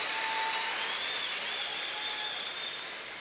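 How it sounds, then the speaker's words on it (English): Crowd applause at a world men's curling championship round-robin match between Canada and Switzerland, a steady broad wash of clapping that fades slightly toward the end, heard alone. "Applause from the crowd."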